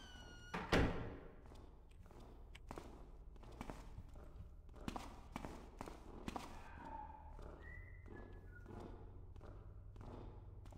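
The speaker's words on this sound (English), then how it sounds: "Did I hear footsteps coming from down the hall" A guard's footsteps in the stealth game Thief, a string of soft, muffled thuds and taps in a quiet interior, starting with one sharp knock and then a slow, uneven tread.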